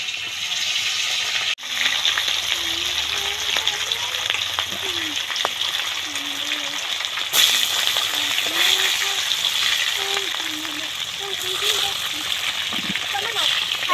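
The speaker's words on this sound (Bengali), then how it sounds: "এবার মাছগুলো ভেজে নেবে" Fish rubbed with salt and turmeric fry loudly in a home kitchen pan, a dense, continuous crackling sizzle with a sharp clatter near the start, while someone talks over it.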